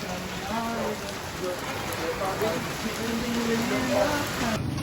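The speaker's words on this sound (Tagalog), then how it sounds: "umuulan no" Steady rain patters on a surface throughout, a soft even hiss with faint voices murmuring in the background.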